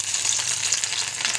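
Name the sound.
tempering spices frying in hot oil in a wok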